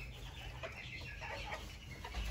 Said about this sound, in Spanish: Ahí están los pollitos